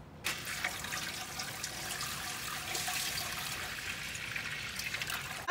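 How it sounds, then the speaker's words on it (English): Lukewarm water pours steadily into a canning pot for peaches, a continuous close splashing rush that starts abruptly and runs unbroken, with no talking. "I'm putting a lukewarm water in it, not ice cold water"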